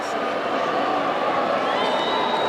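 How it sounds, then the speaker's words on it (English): Figure skating arena crowd at the men's short program of the 2010 World Championships, a dense, steady roar of many voices with booing mixed into the sustained noise, loud throughout. "Some of the crowd booing because they think he should be in first place"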